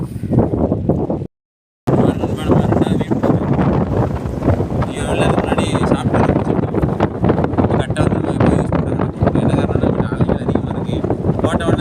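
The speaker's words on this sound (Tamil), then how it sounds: "இந்த பக்கம் வந்து காற்று அதிகமாக இருக்குது" Strong outdoor wind gusts and buffets the microphone beside the water on a fishing outing, a loud continuous roar with a short dropout near the start.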